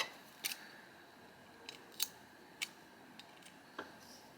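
Several crisp, quiet snips of scissors cutting off a yarn end on a crocheted cow bucket hat, spaced irregularly about half a second to a second apart in a hushed room.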